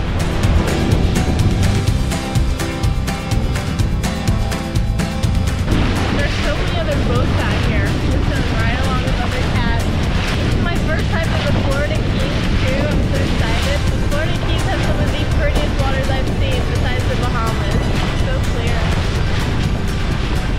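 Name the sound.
strong wind and waves on a sailboat at sea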